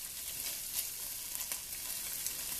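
Shrimp sear in a hot pan with a steady, close sizzle and a few brief crackling pops, all on its own with no voices.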